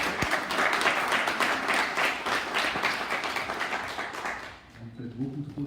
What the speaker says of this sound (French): M. Diego Esteban, sous vos applaudissements s'il vous plaît.